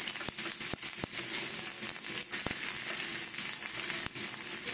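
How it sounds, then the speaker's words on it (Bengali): Onion sizzling in hot oil in a saucepan, a steady dense crackle with occasional sharp pops, close and continuous throughout. "সসপ্যান বসিয়েছি সসপ্যানে তেল দিয়েছি এইবারে দেব ভেতরের জুসটা তৈরি করছি পেঁয়াজ দিলাম"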